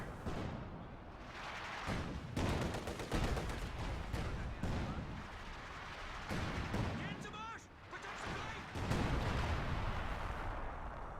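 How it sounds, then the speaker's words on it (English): Howitzer barrages and mixed gunfire echo across a World War II real-time strategy battlefield, heavy booms and bursts repeating throughout while someone commentates over the top. "getting some hits there, I believe, by the howitzer"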